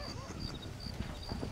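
Horse hooves clop in a steady, rhythmic gait in the Red Dead Redemption video game on PC, a moderate low thudding beat running throughout with muffled voices faintly underneath.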